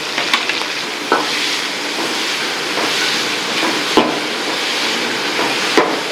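Onions, tomato, chilli powder, coriander powder and cumin fry with a steady, close sizzle in a pan for Salem mango, field bean and brinjal kuzhambu, broken by occasional sharp scrapes and clinks of stirring.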